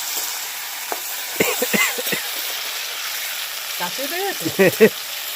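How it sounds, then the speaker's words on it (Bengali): Two medium-sized tomatoes fry in a pan for a winter vegetable khichdi, making a steady soft sizzle. Someone talks over it in short bursts. "এই টমেটোটা দিয়ে ভেজে নেব"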